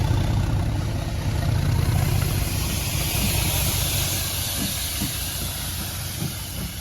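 Steady loud hiss of steam from a steam locomotive being towed by a diesel, a continuous broadband rush with a low rumble underneath, no voices.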